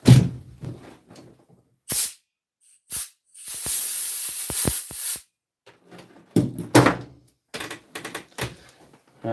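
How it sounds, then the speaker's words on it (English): A compressed-air blast hisses for about two seconds while drying a repaired part, with sharp clicks and clattering handling noises before and after. "I dried it with a compressor"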